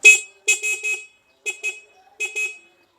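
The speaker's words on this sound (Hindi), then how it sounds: "उसके बाद हॉर्न है, हॉर्न पे जाते हैं। मैं ज़रा इसको चलाता हूँ और आवाज़ चेक करते हैं।" A Yadea E10 electric scooter's horn sounds as a series of short, loud electronic beeps in quick clusters. The beeps stand alone with silence between the groups.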